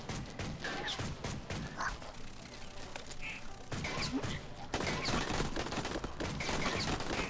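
Repeated gunfire in the video game Swamp Attack 2, a steady stream of sharp bursts layered with game effects, with someone talking over it throughout.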